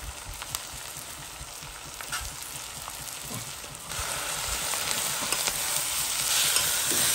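Food sautés gently in a pan for rougail chevaquine, a continuous close hiss and sizzle that swells louder midway, dotted with small pops and light stirring taps.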